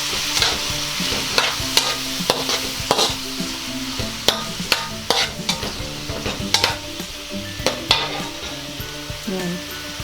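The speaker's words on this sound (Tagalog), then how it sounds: "Hahaluin lang natin to." Beef with broccoli sizzling in a pan as a utensil stirs and scrapes through it in repeated sharp knocks over a constant frying hiss, close and fairly loud, with no one speaking.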